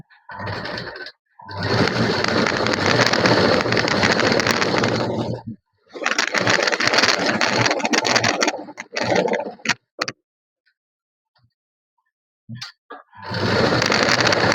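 Sewing machine stitching along the edges of a blouse cross belt, running in long continuous bursts separated by short pauses, loud and close with no talking.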